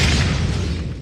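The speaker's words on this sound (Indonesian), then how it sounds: "seiring dengan ledakan yang menghancurkan tempat itu" A loud, broad explosion rumbles as a game center is blown apart in a revenge horror film, starting at full force and slowly decaying over about a second.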